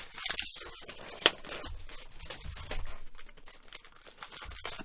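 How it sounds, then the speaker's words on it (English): Crinkly rustling and crackling of vinyl record sleeves being handled while unpacking albums, close and continuous, with a sharp snap partway through. "Apologies for the rustling if you can hear it."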